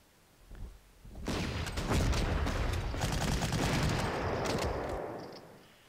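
Artillery barrage in the Panzer Corps strategy game, Narvik scenario: a sustained, loud rumble of overlapping gunfire and booms lasting several seconds after a faint opening shot, then fading out.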